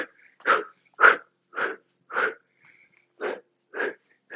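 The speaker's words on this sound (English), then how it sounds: "Give me those exhales." Sharp, breathy exhales during a knee-drive workout, eight forceful puffs in an even rhythm about half a second apart, close and clear with silence between them.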